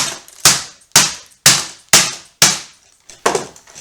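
Hammer blows strike a plastic Elmo toy, six sharp loud impacts at a steady half-second rhythm, each with a cracking, clattering decay, near and alone.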